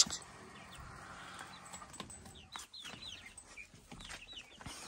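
Chickens and chicks on a farm cluck and peep in a steady scatter of short calls, close by and moderately loud, with no talking.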